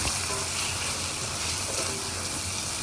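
Chicken pieces sizzle and fry in a pan while being stirred into a pepper chicken gravy, a continuous close hiss with soft scraping stirs and no voices.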